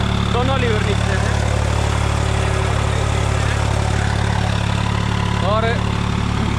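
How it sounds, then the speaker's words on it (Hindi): A New Holland 3630 tractor engine running steadily at 1500 rpm in low first gear, a loud, even drone throughout, with voices speaking over it. "1500 आरपीएम पे, लो के पहले गियर में दोनों लीवर नीचे हैं"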